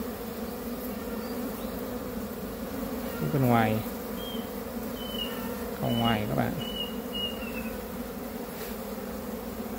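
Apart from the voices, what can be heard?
honeybees buzzing on a hive frame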